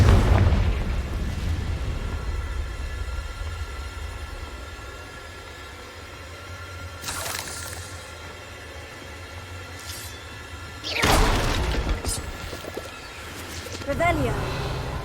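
A Confringo spell goes off in Hogwarts Legacy with a couple of sharp blasts, the loudest bursts landing a few seconds apart, over steady game ambience while a voice talks.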